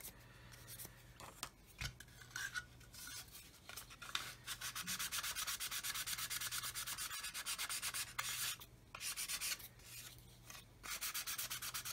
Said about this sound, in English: I'm going to come on the sanding stick and make sure this face is flat.